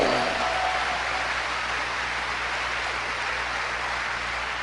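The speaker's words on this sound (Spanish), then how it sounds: "Dale ese aplauso al árbitro." Steady applause from a church congregation for a referee, fairly loud and continuous throughout with no voices over it.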